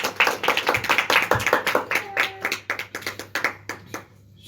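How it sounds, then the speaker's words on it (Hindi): Loud applause from a crowd, dense rapid clapping that swells and fades slightly over a few seconds. "जोरदार तालियां।"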